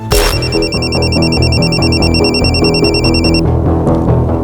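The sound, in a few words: phone ringing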